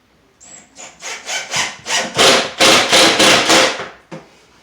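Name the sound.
screw gun driving a drywall screw at an angle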